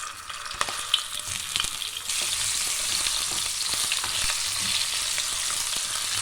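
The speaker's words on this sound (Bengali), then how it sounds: "এবার আমি পটলগুলো ভেজে নেব।" Pointed gourds (potol) fry in oil in a pan, starting with scattered crackles and spatula taps, then swelling into a steady, bright hiss of sizzling that runs on without talk.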